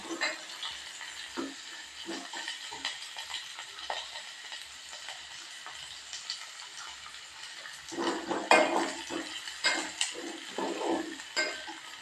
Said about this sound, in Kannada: ಕರಿ ಈಗ ಹಾಕ್ತಿದ್ದೀನಿ ಯಾಕಂದರೆ ನಂಗೆ ಅದು ತುಂಬ ಕುಡಿಯುತ್ತೆ ಎಣ್ಣೆ ಎಲ್ಲ ಎಣ್ಣೆಯಲ್ಲಿ ಫ್ರೈ ಆಗಬೇಕಿದೆ